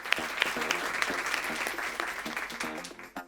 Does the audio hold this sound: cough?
no